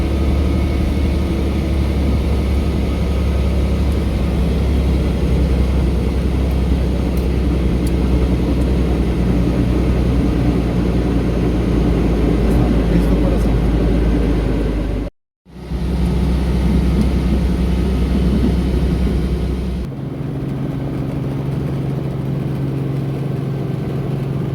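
Helicopter flight over the Clearwater beaches in Florida, heard as a steady loud engine and rotor drone from inside the aircraft, briefly cutting out midway and then continuing at a slightly lower pitch.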